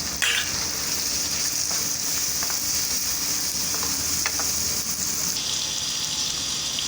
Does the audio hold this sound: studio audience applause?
no